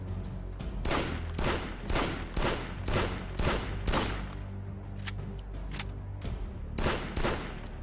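A weapon fires in short full-auto bursts in the Projekt Z zombie shooter, loud sharp cracks in rapid clusters with brief pauses between them.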